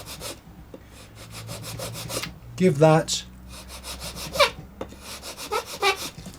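A sanding bar rubs across wood on a Warbirds Replicas FW190 model aircraft, giving a few short scraping strokes close up between bits of quiet talk.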